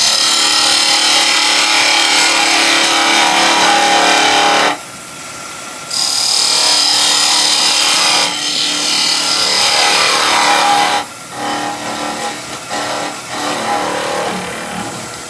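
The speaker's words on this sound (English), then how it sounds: "use the skew just to clean my edge up" A skew chisel cleaning up the edge of a wooden nativity scene piece spinning on a lathe, loud hissing cuts in long bursts separated by short pauses, with quieter intermittent scraping toward the end and no talking.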